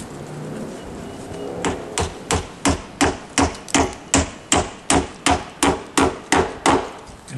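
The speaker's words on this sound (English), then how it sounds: "we're going to nail this into place" A hammer drives a nail into deck roof wood about a dozen times in a steady, even rhythm, each blow sharp and close with nothing else heard.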